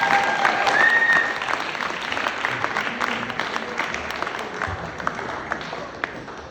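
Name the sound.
audience applause for the Bar Mitzvah boy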